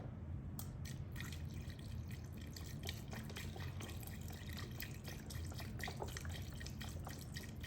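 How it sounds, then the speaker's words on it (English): Beef broth poured into an Instant Pot while making carnitas, a steady close liquid trickle with scattered drips running throughout, heard alone with no talking. "So if you need to add a little more, like looks like we do, just gonna add some beef broth in there."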